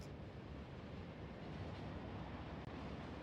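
Train rolling along in Pyanodon's Hard Mode, a low continuous rumble with a faint steady hiss, quiet and even throughout with a single brief click near the end.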